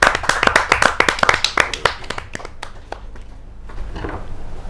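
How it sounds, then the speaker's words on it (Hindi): A kavi sammelan audience claps to welcome a poet: a burst of many hands clapping, dense at first, then thinning into scattered claps over about three seconds before settling into quiet room ambience. "जोरदार ताली के साथ हम उनका स्वागत करें।"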